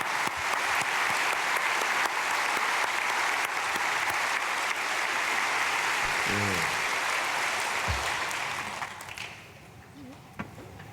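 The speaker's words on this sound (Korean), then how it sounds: "우리 어린 학생들에게 박수." Congregation clapping for young students at an early-morning church prayer service, a dense sustained round of applause that dies away near the end, leaving a quiet room.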